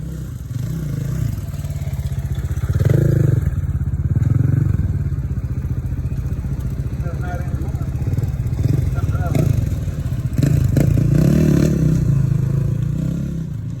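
A motorcycle engine drones and revs nearby, with rough clattering and scraping as it rides over an uneven dirt trail in Moab; the sound is loud and continuous.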